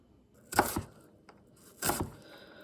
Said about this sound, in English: I'm chopping onions.